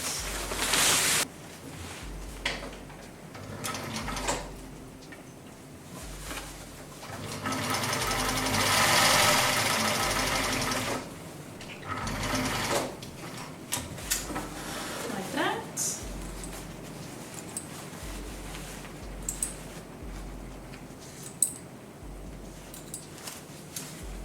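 A sewing machine stitches closed the waistband opening of a pair of trousers in several bursts of rapid mechanical whirring, broken by pauses with fabric handling and a spoken voice.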